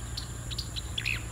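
Several short, high chirps from a migratory bird along a river trail, scattered over a steady low rumble, with a brief trilling call near the end.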